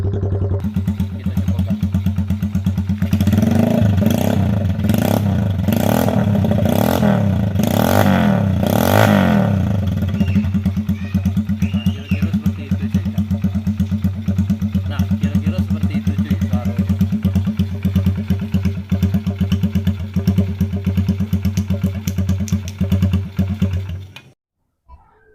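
A Honda Supra chopper motorcycle engine is revved hard several times in quick bursts, then settles into a loud, steady idle close by before cutting out near the end.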